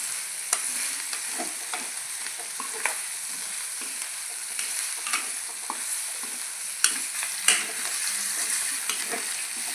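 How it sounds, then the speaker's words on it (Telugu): Potato and tomato curry stirred in a pan, a continuous sizzle with repeated scraping clicks and knocks of the spoon against the pan, close and uneven in rhythm, with no talk. "అడుగు అంటుకున్నాయండి, కలుపుకోవాలి ఒకసారి."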